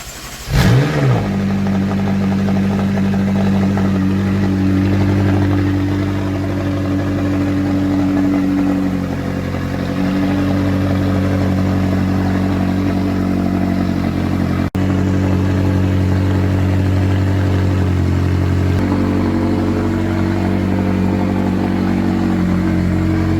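A McLaren 675LT Spider MSO supercar engine starts with a sharp burst, then settles into a loud, deep, steady idle close by, with occasional changes in pitch from light revving over more than twenty seconds.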